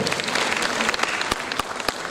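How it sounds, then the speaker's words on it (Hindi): An audience applauds at the Bundeli Mahotsav 2023 festival, a dense, even crackle of many hands clapping with a few sharper claps standing out, moderately loud and without speech. "हम तालियों के साथ अभिनंदन करें।"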